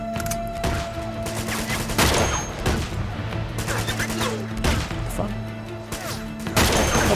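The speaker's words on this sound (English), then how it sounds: "he keeps shooting me before I can shoot him" Rapid gunfire in the video game Uncharted 2: Among Thieves, repeated loud bursts of shots over a steady droning game background, with a few sharp crashing impacts.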